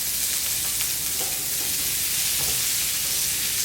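Sliced onions frying with bacon in a pan for bourbon bacon jam, a loud, steady, close sizzle with light stirring noises and no talking.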